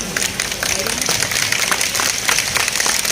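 A crowd at a comic poetry show in Janta Ganj Mandi, Rajnandgaon, applauds with dense, crackling claps at a steady level across a few seconds.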